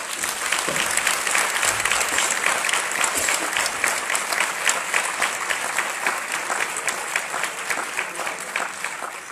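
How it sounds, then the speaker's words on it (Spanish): Sustained audience applause for the speakers at an ADHD awareness conference, a dense, even wash of many hands clapping at moderate level, with a few brief low bumps early on. "pido un aplauso por todos los ponentes"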